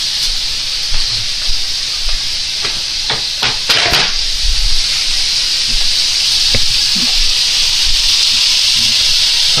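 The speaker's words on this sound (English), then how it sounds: "I hear that kettle." A kettle heats water on a kitchen stove during a family dinner cook, giving a loud steady hiss with soft bubbling, and a few brief clicks and knocks sound close by.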